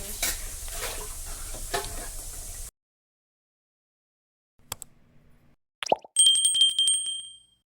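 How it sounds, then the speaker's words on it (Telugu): Onions and green chillies fry in oil while being stirred, heard as a close sizzle with scraping strokes for a few seconds before a silent gap, then scattered clinks and a bright ringing tone near the end. "ఇప్పుడు పచ్చిమిర్చి అయ్యే వరకు కలపాలి"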